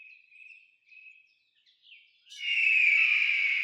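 Thin, high whistling calls followed by a sudden loud, piercing screech that holds steady for over a second, a kite's cry.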